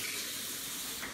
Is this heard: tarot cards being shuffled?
no